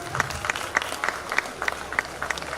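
Applause from an audience at a university golden jubilee celebration, a steady patter of many hands clapping, moderately loud and continuous for a couple of seconds.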